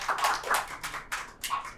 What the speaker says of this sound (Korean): 이거에 동의하시면 박수.